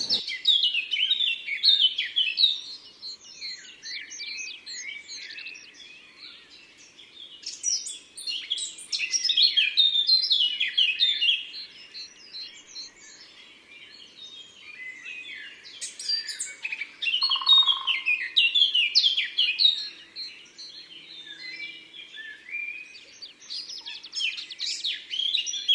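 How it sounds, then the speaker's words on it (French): A Eurasian blackcap sings in open countryside at Plaines Villes, Ploufragan, Côtes d'Armor, giving bright, warbling phrases in repeated bursts with short pauses between them, fairly close and clear against a quiet background. "fauvette à tête noire."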